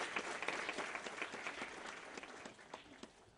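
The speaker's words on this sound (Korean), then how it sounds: "큰 박수로 맞아주시죠" A lecture audience of university students gives a warm round of steady, dense applause to welcome a CEO speaker, many hands clapping at once and slowly fading toward the end.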